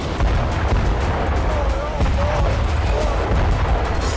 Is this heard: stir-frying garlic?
no